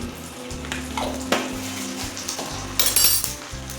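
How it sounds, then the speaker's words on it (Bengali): Whole cumin seeds sizzle in hot oil in a kitchen pan, crackling up close, with a couple of metal clinks from a utensil against the pan near the end. "দিয়ে দিচ্ছি গোটা জিরে।"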